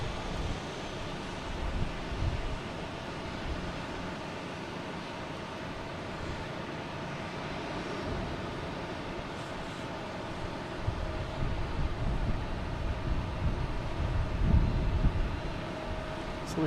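Condor Airbus A330 bound for Frankfurt taking off at Boston Logan, a broad, steady distant jet roar with wind buffeting the microphone, swelling slightly louder toward the end.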